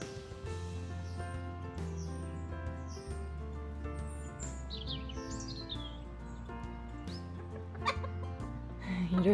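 A rooster clucks and calls in a vegetable garden with a steady humming drone beneath. Brief chirps and clucks come through at moderate distance, and a louder burst arrives near the end.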